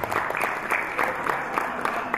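Audience applause at a 70th-anniversary celebration for People's Artist of the USSR Jurabek Murodov, a steady dense clapping wash from a hall crowd, moderately loud and continuous with faint voices mixed in.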